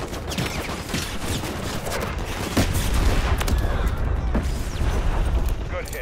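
An artillery strike in the Call of Duty MW3 video game, heavy booming impacts and rolling gunfire rumbling loudly and continuously, with shouted voices over the battle.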